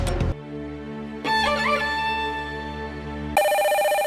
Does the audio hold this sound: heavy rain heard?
no